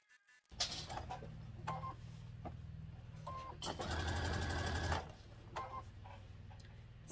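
A sewing machine backstitches fabric for homemade dog period pants, running in short bursts of rapid stitching separated by pauses, with one longer sustained run in the middle, close and clear.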